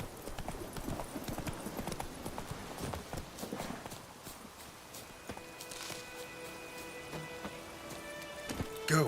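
A horse gallops and clip-clops along a path in The Witcher 3 video game, with rapid rhythmic hoofbeats in the first half, then quieter steps under rain-like patter and a few sustained game tones.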